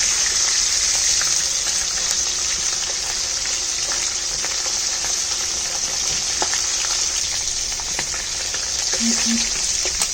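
Foli fish shallow-frying in hot oil for a Bengali curry, a steady close hiss and sizzle with faint crackles, continuous throughout and without talk.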